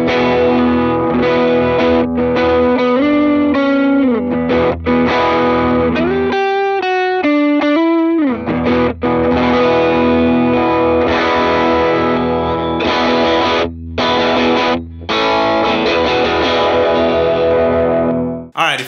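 An electric guitar plays through a King of Tone overdrive pedal, crunchy distorted chords and riffs ringing out loudly with a brief choppy muted passage in between.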